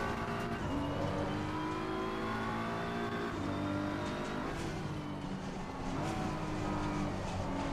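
A BMW M4 race car engine in a racing sim such as Assetto Corsa Competizione or Gran Turismo 7 revs hard and steadily, its pitch dipping briefly at a gear change before climbing again, loud and continuous throughout.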